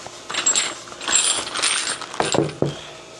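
Metal sockets from a new tool kit are handled, giving a few close, bright clinks and rattles, with two sharper knocks near the end and no talking.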